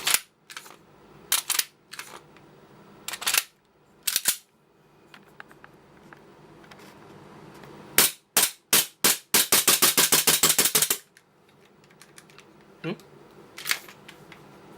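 A stock Marine magazine with a stock base plate drops from and loads into a gas gun, making sharp plastic-and-metal clacks in separate bursts, with a quick run of rapid clicks in the middle.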